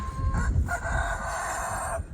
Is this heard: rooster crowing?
yes